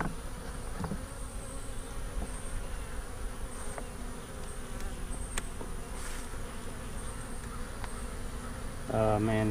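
Honeybees in a top bar hive make a steady, close buzzing hum throughout, with a few brief knocks and a louder rustle at the very end.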